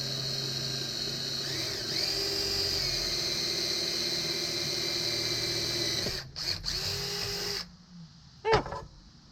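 A power drill whines steadily as it bores a 1/4 inch bit through metal at a forge, its pitch wavering slightly, then stops, followed by a couple of short clicks and brief whirs.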